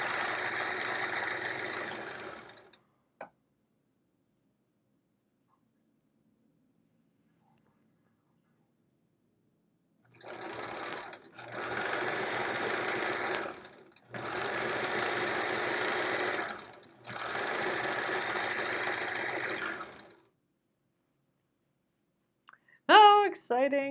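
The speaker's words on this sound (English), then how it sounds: "I still want to like do a time test of all my sewing machines to see when the pedal is all the way down" Several home sewing machines run flat out with the pedal fully down, each a short burst of fast, even whirring and clicking separated by pauses, close and fairly loud, with a brief voice at the start.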